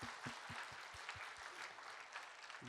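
A church congregation claps in praise, a steady patter of many hands sounding faint and distant, with a few lower thumps under the clapping.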